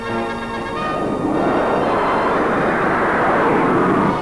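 An airliner flying over the arid ranges of the Kimberleys: a loud, continuous engine roar that swells slightly and holds steady, broad and droning with no voices.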